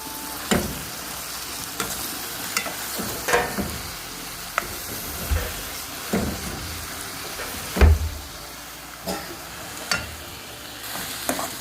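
Chicken fried rice with sugar stirred in a hot pan: a soft, steady sizzle broken by repeated scraping and clinking strokes of the spoon against the pan, with a louder knock near the end.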